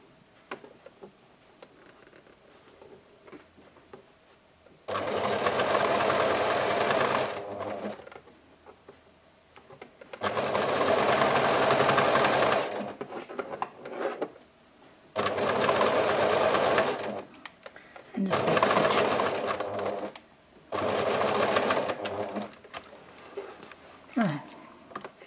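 Sewing machine stitching the handle ends of a tea towel tote bag runs in five loud, steady bursts of a few seconds each, separated by quiet pauses with faint handling noises.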